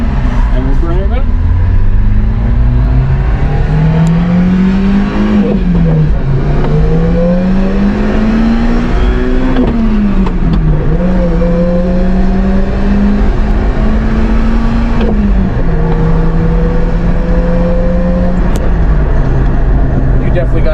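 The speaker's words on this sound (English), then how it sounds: "you could hear the supercharger whining like an actual, it's like Jackson Racing supercharger sound right there" A supercharged Subaru Sambar engine, fitted with a Jackson Racing supercharger, revs up and down repeatedly at close range. Its loud, rising and falling drone carries a thin whine over about twenty seconds.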